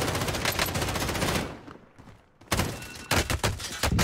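Gunfire in Call of Duty Warzone: loud, close automatic bursts, then a short lull and a second volley of rapid shots with heavy thuds.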